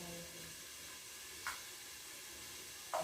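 Roti fries in oil on a hot tawa, giving a faint, steady sizzle broken by two brief louder crackles.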